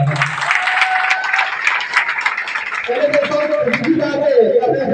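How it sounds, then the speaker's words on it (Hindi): An audience at a motivational training session claps steadily and loudly throughout, a dense wash of hands. Near the end the speaker's voice rises over the applause. "एक बार फिर से जोरदार ताली बजा दीजिए।"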